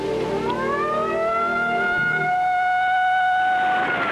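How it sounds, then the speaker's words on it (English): Fire truck sirens wailing at night, a rising loud sustained tone with overlapping pitches swelling and lingering, no voices. "One night we heard the sirens going."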